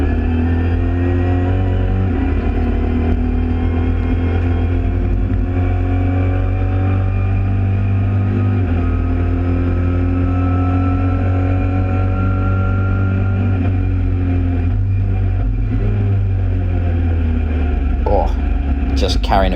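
Mini Challenge race car in a wet Silverstone GP racing video game, its engine droning loud and steady with revs climbing and dipping as the wheels spin for grip, under continuous talk.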